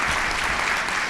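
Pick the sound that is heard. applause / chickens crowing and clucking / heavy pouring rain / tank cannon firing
applause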